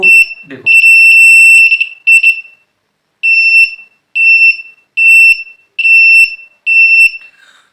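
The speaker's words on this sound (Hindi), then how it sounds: "ultrasonic social distancing alarm" Arduino ultrasonic social-distancing alarm buzzer sounding loud, high-pitched electronic beeps, first in a long continuous burst, then a series of evenly spaced short beeps close to the microphone, with a brief noise at the start.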